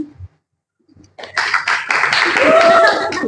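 A small group claps to close a church Bible study, the applause starting after a brief near-silent pause and going on steadily and fairly close to the end.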